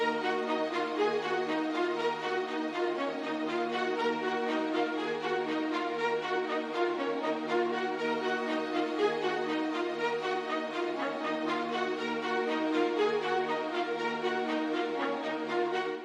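Legato orchestral string chords produced in FL Studio, joined by a melodic line on top, play steadily and fully on their own with a dense, continuous sound and no talking.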